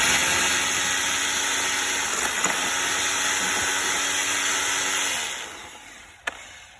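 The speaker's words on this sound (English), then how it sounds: "start drilling my hole" A steady, high-pitched motor whine runs for several seconds, like a power drill boring into wood, then winds down and stops with a brief clack.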